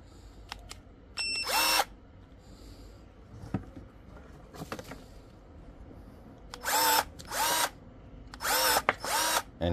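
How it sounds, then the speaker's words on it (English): Parkside X20V cordless electric pruning shears, model PAAS 20-LI A1, run close by in short, sharp motor bursts. Several quick whirring buzzes are separated by pauses with faint clicks and handling noise. "Let's take the Parkside pruning tool."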